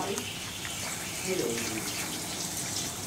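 Running water rinses Dawn dish soap off a cat during a bath, a steady, close, continuous rush of flowing water that barely changes level throughout.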